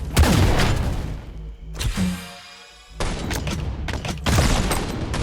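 Homing grenades in the video game SquadBlast going off in quick bursts, loud crackling blasts and booms with brief lulls between volleys of gunfire.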